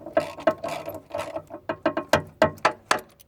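A hand ratchet tightens the starter motor bolts on a Ford Fiesta Mk7, giving a steady run of about a dozen crisp clicking strokes in a regular rhythm, close and clear, with no talking.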